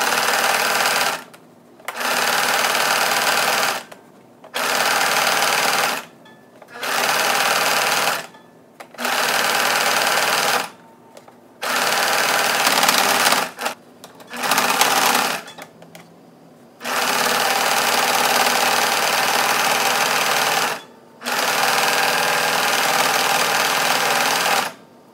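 A sewing machine stitches the ties of a handmade fabric mask in repeated bursts of one to four seconds, loud and close, with short silent gaps between runs and two longer stretches near the end.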